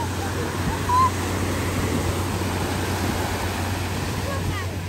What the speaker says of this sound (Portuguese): Olhem este mar.